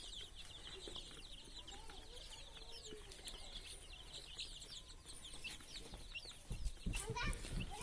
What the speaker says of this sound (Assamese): ইয়াতে 150 মুৰ্গীৰ পোৱালি আছে।